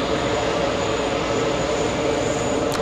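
Airbus A340 airliner at JFK Airport, a steady broadband jet roar held at constant loudness throughout, with no voices.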